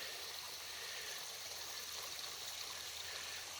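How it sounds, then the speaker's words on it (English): A stream flowing through a small wooded gorge swollen after heavy rain, a continuous even rush of water heard close and steady with no voices. "We've had a ton of rain, so lots of water flowing."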